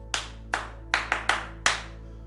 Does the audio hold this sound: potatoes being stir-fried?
no